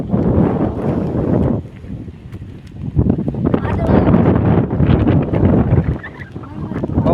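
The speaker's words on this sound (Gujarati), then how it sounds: "પવન" Strong wind after rain while taking in a view, buffeting the microphone in loud, gusty bursts with a short lull partway through; a voice is heard over it.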